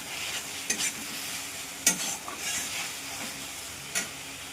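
Fried potatoes being stirred into hot oil for a katla fish curry, a steady close sizzle broken by a few sharp scraping clatters of the spoon against the pan.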